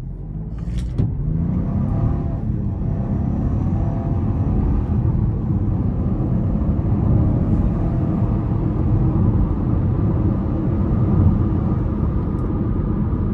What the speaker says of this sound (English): I certainly wasn't flooring it there, but the tires tried to spin a little bit